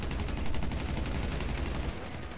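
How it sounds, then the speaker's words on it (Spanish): Rapid gunfire from the video game Battlefield 4 on PS4, dense bursts of automatic shots sustained throughout at steady loudness, close and heavy. "Le disparo a la Luis en la cabeza"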